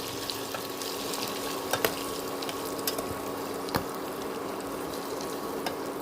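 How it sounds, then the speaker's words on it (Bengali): Sausages frying in a pan make a continuous close sizzle, punctuated by a few sharp scraping or stirring clicks, with no voices. "সসেজগুলো একদম ভাজা করে নেব, সুন্দর করে।"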